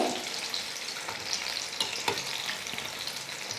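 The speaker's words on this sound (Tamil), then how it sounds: "எண்ணெயில் போட்டுக்கலாம். கொஞ்ச நேரம் வெந்ததுக்கப்புறம் நம்ம திருப்பி போட்டுக்கலாம்." Sweet potato bondas crackle and sizzle steadily in hot oil, a dense continuous frying hiss with small pops throughout, close and moderately loud with no voices.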